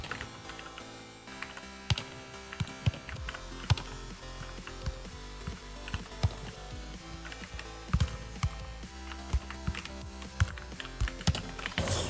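Computer keyboard typing during a FIFA Online 4 match, a steady run of quick clicky keystrokes with sharper bursts over game music and crowd-like background sound.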